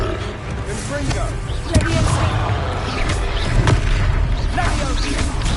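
Confringo fire-spell blasts in Hogwarts Legacy during a fight, loud booming impacts over dense roaring battle noise, with voices in the scene.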